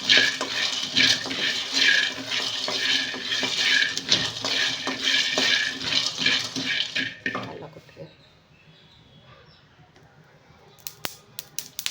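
Sesame seeds roasting in a pan are stirred with loud, scratchy, rhythmic scraping for several seconds before the sound drops to a faint background, with a few sharp clicks near the end.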